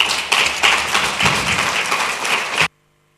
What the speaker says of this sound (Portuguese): eu pedia uma salva de palmas para todos aqueles que organizaram este Congresso